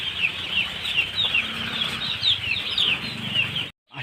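Young chickens at a poultry farm, just given feed, peep in a dense, steady chorus of high chirps, with soft wing flutters and low rustling beneath, ending in a brief moment of silence.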